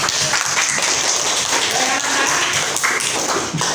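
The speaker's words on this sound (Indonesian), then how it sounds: "Tepuk tangan untuk kita semua." A class of children applauding together in a classroom, a dense, steady patter of many small hands clapping close by for the whole stretch, with some voices mixed in.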